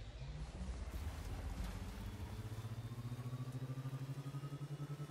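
Larger-engine vehicle driving in LEGO Fortnite, a steady low motor drone with a pulsing rhythm, moderately quiet and unaccompanied by talk.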